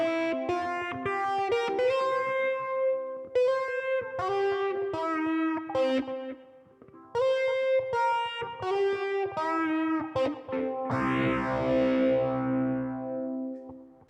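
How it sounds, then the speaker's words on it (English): A plucked ukulele plays a melody through a phaser effect pedal, bright repeated notes with a swirling, sweeping tone, ending on a strummed, shimmering chord. "Let's try a little bit of phaser"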